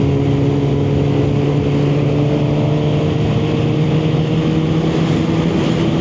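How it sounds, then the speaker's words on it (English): Loud, steady wind buffeting and a constant engine drone while riding a motorcycle on a UK road, a dense roar that never lets up, with no voice heard. "Oh, it's a lot of wind."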